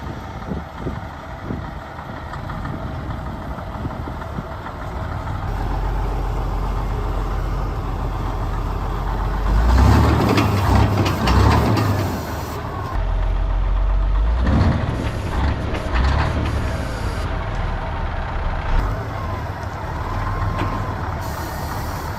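An old truck that sat in a field runs with a low, rough engine rumble that swells louder for several seconds mid-clip, then drops back to a steady idle.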